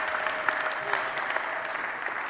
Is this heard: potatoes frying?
no